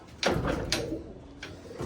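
Madrasi Malwai pigeons sit in pairs in a loft setup, cooing softly in a few short, breathy bursts against a quiet room background.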